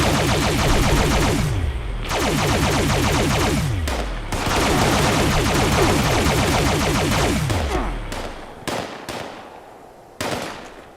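Quad Automatic Alien Disintegrator firing in Fallout 76, long sustained bursts of rapid, buzzing energy shots with descending whine tails, close and loud, then a few short separate shots near the end.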